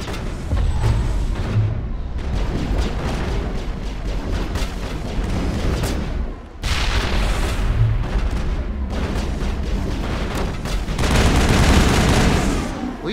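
Gunfire and explosions from the Mass Effect video game fill the scene in dense, overlapping bursts of shots and booms, loud and close, with brief lulls between volleys.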